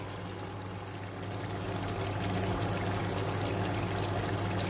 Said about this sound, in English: this is the stock of the meat. It's being filtered, so I'm going to be adding it to it.